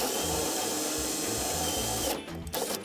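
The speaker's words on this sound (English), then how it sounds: "I'm having trouble drilling the next hole" A power drill whirs steadily for a few seconds while drilling holes for a SolarEdge solar panel mount, its motor humming with a slightly pulsing rhythm, then briefly cuts out and restarts near the end.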